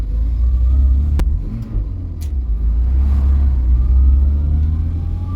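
Barn-find Vauxhall Viva engine pulling hard on a test drive after carburettor work, a loud, steady low rumble with rising revs and a couple of sharp knocks, close and continuous without talk.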